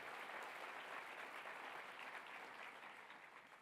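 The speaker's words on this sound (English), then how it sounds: "I want to give you all a round of applause for your activism." Audience applause at a gun-responsibility luncheon, a faint, distant wash of clapping that holds steady, then gradually tapers off toward the end.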